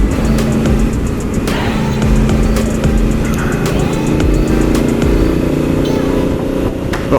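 A Honda Africa Twin motorcycle engine hums steadily while riding, a loud continuous drone with wind rumble, with brief low voice sounds mixed in.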